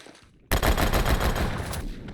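A semi-auto gun in the video game Phantom Forces fires at 600 RPM, a loud rapid string of shots that bursts in after a short quiet moment and keeps going.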